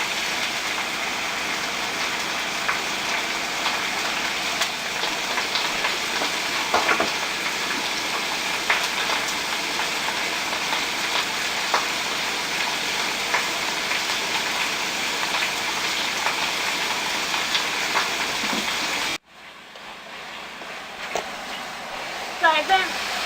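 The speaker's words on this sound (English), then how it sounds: "You hear it sizzling, and all the juices released from the potatoes and the carrots and the green beans." Steady, close sizzling of potatoes, carrots and green beans frying in a pot, a dense crackling hiss that runs evenly before cutting off abruptly near the end.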